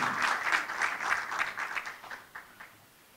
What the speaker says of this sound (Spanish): Un aplauso para nuestro conferencista